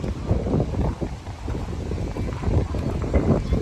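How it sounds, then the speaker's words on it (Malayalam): Strong wind buffets the microphone in loud, continuous low rumbling gusts outdoors on a street at night while people head home, steady roar with surging swells and no speech. "ഭയങ്കര കാറ്റ്."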